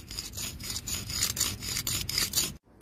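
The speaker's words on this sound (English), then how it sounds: "In prison, you hear this noise all night long." A metal prison shank is filed against concrete in fast, steady back-and-forth strokes, producing a harsh, gritty rasping scrape close by that ends abruptly.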